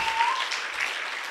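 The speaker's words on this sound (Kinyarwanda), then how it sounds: "amashyi menshi ku mwami" A congregation applauds during a church sermon, producing a continuous crowd clapping that stays loud and even for the whole moment. A brief thin tone sounds faintly near the start.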